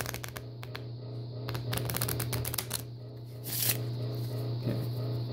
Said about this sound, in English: now I'm set up for a riffle shuffle